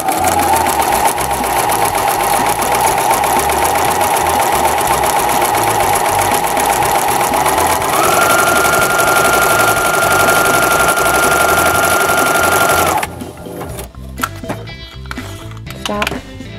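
A sewing machine runs a continuous zigzag stitch, a close, loud, even mechanical hum with a slight pitch rise partway through, then stops abruptly for the last few seconds of small handling noises.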